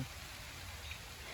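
Quiet, steady rain patters outdoors as a soft, distant wash of drops, faint and even throughout with no voices.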